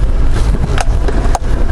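A 2015 Jeep Wrangler JK Unlimited Rubicon with a MoTech LS3 V8 and 6L80 automatic crawls off-road in four-wheel-drive low, giving a steady, loud low rumble with wind buffeting and a couple of brief knocks on top.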